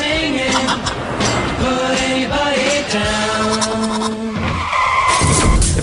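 A car skids in a wreck as an advert sound effect, with a loud, continuous screech of tires carrying steady tonal squeal bands over about six seconds, and a brief pause in the tone near the end.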